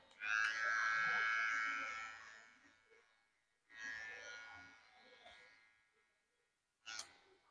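An electric hair clipper cuts medium-length hair in three separate buzzing bursts: a long steady whir, a shorter one, then a brief final burst, close to the listener with quiet pauses between.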